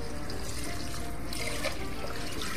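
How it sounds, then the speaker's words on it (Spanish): Water pours steadily into a pot for a seafood rice dish of Cuban-style soupy shrimp rice, a continuous close rushing splash that holds at even volume throughout with no talking. "Ahora echamos agua"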